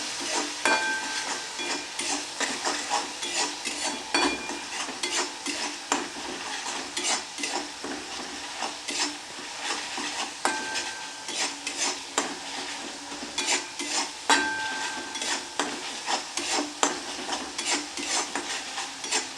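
Spice masala for an egg omelette curry fries in a pan under continuous stirring, with rapid scraping and clinking strokes over a steady sizzle, close and moderately quiet.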